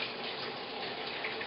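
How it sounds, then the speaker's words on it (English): Water pouring steadily onto a kitchen towel that covers rising challah dough, a continuous close splashing gush with no pauses. "Take a nice kitchen towel, cover it, and then put water on top of the towel"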